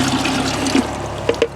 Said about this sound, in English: we're going to start by adding about 2 to 3 inches of water